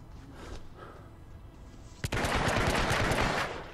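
Video game gunfire from Hitman: Absolution: quieter shots at first, then a sharp blast at two seconds followed by a loud, sustained burst of rapid automatic fire.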